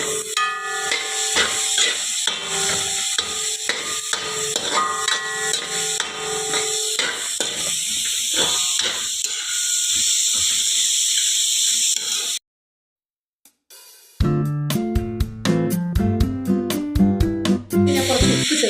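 Onion, carrot, green chili, beans and curry leaves fry in a pan for poha upma with a loud, steady sizzling hiss. After a brief pause, sharp clicking and tapping noises follow.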